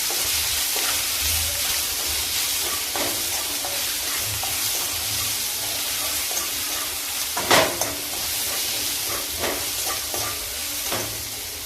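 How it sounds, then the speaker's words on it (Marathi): A ground paste of green chili, garlic and ginger frying in a hot pan for a spicy kadhi, with a steady close sizzle, stirring scrapes and a few sharp clatters from the spoon. "आता त्यामध्ये वाटण केलेली मिरची लसूण आणि अद्रक हे टाकून चांगलं परतून घेणार आहे"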